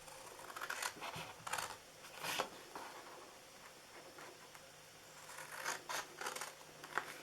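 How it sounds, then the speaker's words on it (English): Scissors snip a corner off paper while making a Santa gift box: a few short, crisp cutting and rustling bursts, close and fairly quiet, separated by pauses. "we're going to cut this corner off right here"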